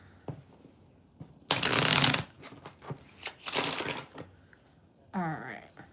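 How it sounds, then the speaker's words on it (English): A tarot card deck is shuffled in two loud riffling bursts, with smaller card taps and handling noises between them and a brief voice near the end. "Let me shuffle this deck."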